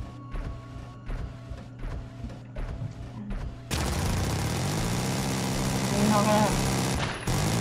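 Rapid gunfire erupts in the video game Carrion, a dense sustained volley of shots with crashing bursts following some sparser, rhythmic earlier sounds, while someone talks over it.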